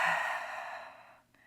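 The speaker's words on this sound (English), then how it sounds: "Ujjayi breath." A long, steady breath during a yoga flow, airy and close, fading out gradually over about a second and a half with no talk.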